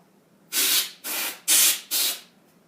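Four loud, close bursts of compressed air hiss in quick succession while blowing dust out of a computer case, separated by short pauses over quiet background.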